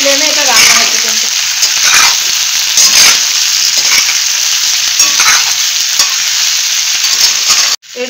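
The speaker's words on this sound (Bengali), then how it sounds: "জিঞ্জার, গার্লিক ক্লোভ সব কিছু দিয়ে আমি একবার নেড়ে নেব।" Pineapple chicken with onion, ginger and garlic is stirred in a pan over a high flame, a loud close sizzle with repeated scraping strokes of the spoon, ending abruptly.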